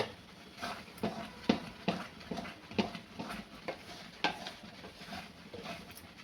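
Khoya peda mixture with a little ghee stirred in a pan at home, a spoon scraping and knocking against the pan in irregular, fairly close strokes with a faint sizzle beneath, no voices.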